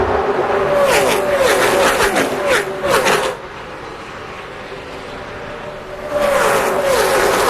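NASCAR stock cars racing at the 2004 Winn-Dixie 250 roar past in loud, sweeping engine passes with rising and falling pitch, a lull midway, then another pack thunders through; commentary voices murmur underneath.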